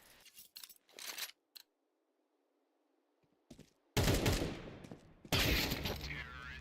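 Video game gunfire in a competitive match, bursts of rapid shots and sharp cracks separated by near silence, then dense loud volleys over the last few seconds.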